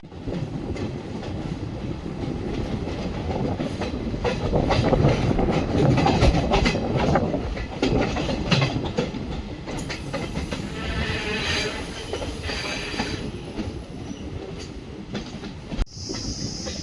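The 06281 Mysore Ajmer Special Express running on rails near Chitradurga, heard from on board: a loud, steady rumble with rhythmic wheel clatter, swelling and easing, and a sharp metallic bang near the end.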